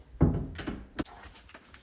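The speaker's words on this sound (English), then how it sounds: "If I open the door" A door swings open indoors while a Meross MS605 presence sensor is being set up, giving a solid thunk followed by a lighter click a moment later, then a few faint knocks, with no talking.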